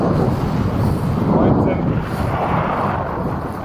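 Strong wind of about 20 knots buffeting the microphone aboard a sailing boat during a Mediterranean cyclone, with a low roaring rumble and rushing water, steady and loud outdoors on open water.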